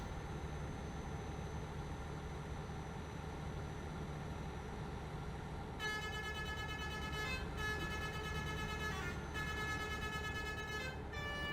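A truck horn in Euro Truck Simulator sounds in three quick, loud, tonal blasts during the second half, over a steady engine and road drone.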